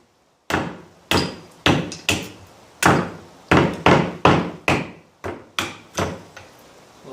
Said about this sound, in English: just take your hatchet or your survival knife and hammer it down like they do on TV